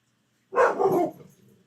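A dog gives one short, loud bark close by, followed by a faint whine that fades out.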